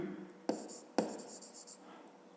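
Pen on paper during a fifth-grade math exercise: a few quiet scratchy strokes and sharp taps, about three distinct marks in quick succession, with no one talking.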